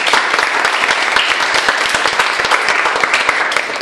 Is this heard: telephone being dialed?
no